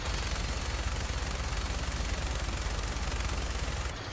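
A sustained burst of rapid automatic fire in the Fallout 4 video game, aimed at cars, a dense unbroken rattle of shots over about four seconds, loud and near with no talk over it.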